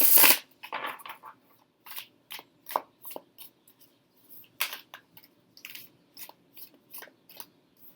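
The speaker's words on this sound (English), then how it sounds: "I'm going to shuffle the White Heart into the deck and begin the process" Tarot cards are shuffled into the deck by hand in a quiet room, giving a string of soft, close riffling and tapping sounds at an uneven rhythm.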